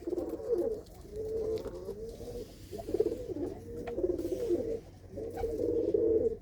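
Pigeons coo close by in repeated soft, throaty bursts, several calls with short pauses between them.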